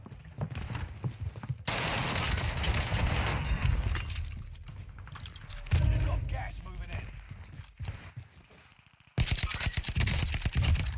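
Gunfire in a shooter video game crackles in dense, rapid automatic bursts, breaking off for a few seconds and then returning, with a player talking over parts of it.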